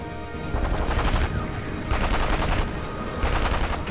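Rapid gunfire from the video game Sniper Elite V2, a loud burst of overlapping shots that fills the moment and repeats in close waves with no talk over it.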